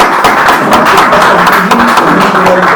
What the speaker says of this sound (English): I would like to please clap for him with a big round of applause.